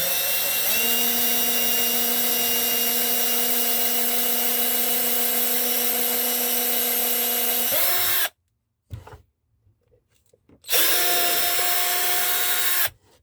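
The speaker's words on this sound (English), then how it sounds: "first pilot hole, small drill" A small power drill boring a pilot hole in a wine barrel lid whines steadily for several seconds, stops briefly, then spins up again with a high, constant motor pitch.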